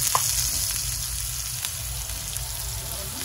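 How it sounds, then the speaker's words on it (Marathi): Onion frying in a pan with mustard seeds, cumin, green chili and curry leaves for paneer bhurji gives a continuous, fairly loud, even hiss with only faint occasional stirring ticks. "कढीपत्ता नंतर टाक, कांदा टाक. कांदा जरा परतून घे."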